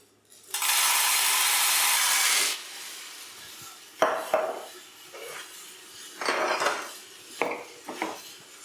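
Coffee beans pour in a steady rush for about two seconds into a Hottop KN-2282B-2K+ home drum roaster, followed by scattered clinks and rattles of beans and metal parts, close and fairly loud, with no speech.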